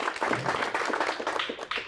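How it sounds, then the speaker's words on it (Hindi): Audience applause at a farmers' forum stage event on wheat harvesting, a steady wash of clapping with some voices mixed in, moderately loud and continuous throughout. "उनका भी जोरदार तालियों से स्वागत।"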